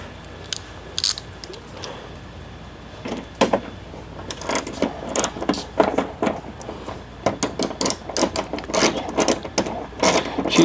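A cheap Harbor Freight ratchet wrench works fasteners while a Pro grille goes onto a 2025-or-newer Toyota 4Runner, giving repeated bursts of quick close clicking separated by short pauses, with no talk over it.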